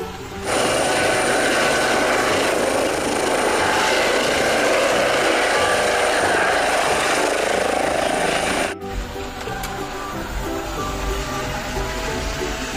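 A helicopter with a loud, steady rotor and turbine drone holding constant for about nine seconds, then an abrupt cut to a different, rougher mechanical whir that continues to the end.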